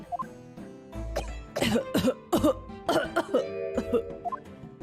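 A character coughs in The Great Ace Attorney Chronicles video game, a few harsh throaty coughs in a short burst over soft background music, close and clear.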